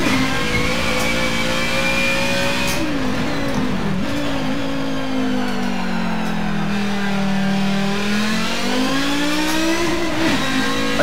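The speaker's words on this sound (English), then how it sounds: "Not the wildest 5-cylinder sound I've heard." Audi 90 IMSA Group 5 race car with a five-cylinder engine in Forza Motorsport, heard as a loud, steady engine drone that rises and falls in pitch through gear changes, close and continuous with no talk.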